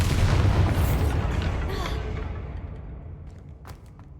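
A Bombarda spell explosion from Hogwarts Legacy bursts loud and close with a deep boom, then rolls off into a long fading rumble, with a few faint crackling pops near the end.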